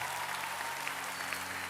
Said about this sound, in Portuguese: Uma salva de palmas para o pessoal dos universitários da nossa igreja.